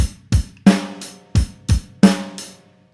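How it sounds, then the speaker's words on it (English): A drum kit groove repeating kick, kick, snare with hi-hat strokes between, played close and fairly loud at a steady moderate tempo, each hit ringing briefly before the next, with no talking over it. "it's just kick, kick, snare, hi-hat, kick, kick, snare, hi-hat with that constant hi-hat."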